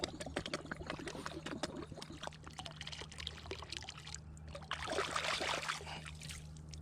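Water pouring and trickling out of an old Raymond Brewing Company bottle as the mud is rinsed out, with an uneven splashing flow that swells louder near the end.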